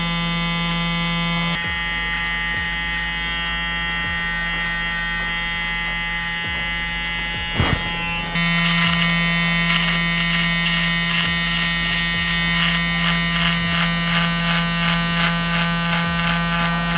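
A close electric beard trimmer buzzes steadily and loudly while it cuts the bottom line of a beard during a home trim. The pitch shifts slightly partway through as the trimmer moves against the hair.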